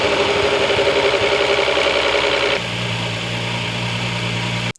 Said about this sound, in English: You hear this rattle on cold start on your R36?